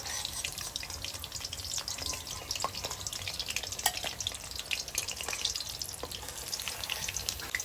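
Banana flower fritters frying in hot oil, a dense continuous crackling sizzle up close with occasional sharp pops and faint utensil movements, no voices.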